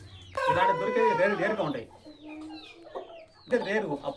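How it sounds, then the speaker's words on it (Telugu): An Indian breed game fowl rooster of about five kilograms crows loudly and close, then gives softer clucks and calls before crowing again. "ఇది 5 కిలోల దాకా ఉంటుంది. మంచి క్వాలిటీ గల కోడి ఇది"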